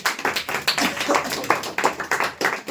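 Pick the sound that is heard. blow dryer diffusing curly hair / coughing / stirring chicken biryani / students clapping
students clapping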